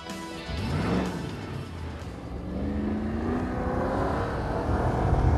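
A Porsche 911 sports car drives past with a rising, revving engine note that swells and shifts through gears, moderately loud with no talk.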